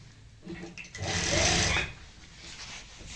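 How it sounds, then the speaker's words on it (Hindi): A sewing machine stitches a seam on a palazzo skirt close by, running in one steady whirring burst of about a second after some quieter handling sounds, with no talk. "यहाँ पे हमें मार्जिन जितना हम नॉर्मल लेते हैं उतना लेते हुए सिलाई लगानी है।"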